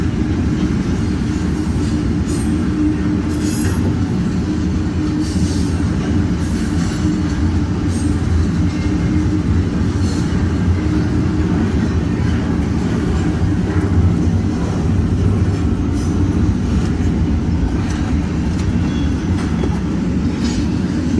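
An eastbound double-stack freight train rolls past at Fremont, Nebraska on a damp day, a loud continuous rumble of wheels with rhythmic clickety-clack and faint squeal, close by and unbroken for the whole stretch.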